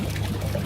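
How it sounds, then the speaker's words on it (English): Water trickles steadily through an aquaponic growing system, a brief, continuous, moderately loud splashing wash with no voices. "I hope this water noise isn't super loud."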